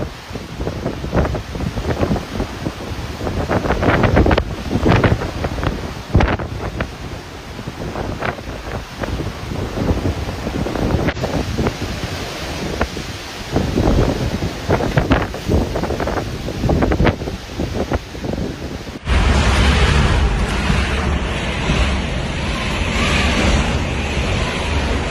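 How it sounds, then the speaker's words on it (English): Typhoon Bavi wind roars across Talafofo Bay, Guam, with churning surf beneath: a steady, dense rush of gusts buffeting the microphone that grows harsher and louder in the final stretch. "We are experiencing heavy winds and flooding here."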